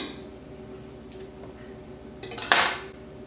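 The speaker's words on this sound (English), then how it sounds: "I'll scrape the sides and the bottom to make sure everything's mixed good." A utensil scrapes the sides and bottom of a mixing bowl of pumpkin pie filling, with soft clinks followed by one louder scraping clatter near the end, heard alone.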